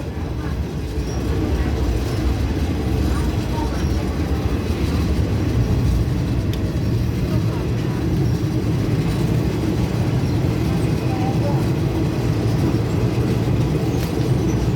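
A train rolls on rails toward the River Kwai Bridge station in Thailand on its run from Tham Krasae bridge, giving a loud, steady rumble of wheels and carriages with faint squeals throughout.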